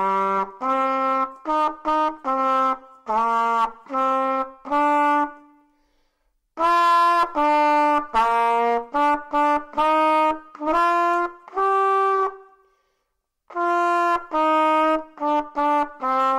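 A trumpet plays a lively melody of short, clearly articulated notes with a bright harmonic tone, in two phrases split by a brief pause and followed by a shorter third phrase. It sounds close and solo, with no talking.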